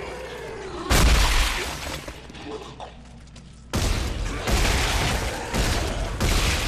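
Plasma gun shots in Dead Space 3 crack out in heavy, loud bursts, an initial blast followed by a quieter lull and then a run of repeated punchy discharges.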